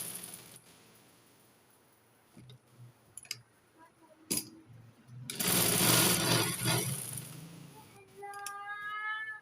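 A sewing machine stitches the sides of a frock for a two-year-old girl, with a loud run of whirring in the middle that follows scattered clicks and handling noises.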